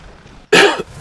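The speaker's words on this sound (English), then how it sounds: "Sorry for the coughing." A single sharp, loud cough lands right up close to a microphone after a brief quiet moment, then cuts off cleanly.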